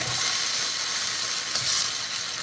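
Pad See-Ew noodles with vegetables sizzle steadily in a hot pan while being mixed, a continuous close hiss with faint stirring scrapes.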